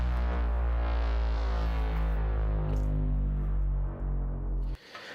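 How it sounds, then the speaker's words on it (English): A downer sound effect in epic trailer music, a loud sustained low tone that slowly drops in pitch over several seconds before cutting off abruptly. "Then we have a downer that comes in throughout the track."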